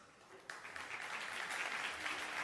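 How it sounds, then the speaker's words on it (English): Audience applause at a keynote talk for a national sales conference breaks out suddenly and keeps building into steady clapping, faint and somewhat distant. "Let's hear the applause."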